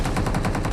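Automatic gunfire in the mobile battle royale game BGMI: a rapid, evenly spaced burst of about eight shots within less than a second, loud and close.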